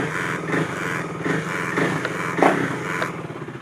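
KTM Duke 390 motorcycle with a ride-by-wire throttle fault, its engine running close by and answering a series of throttle blips in rising and falling surges.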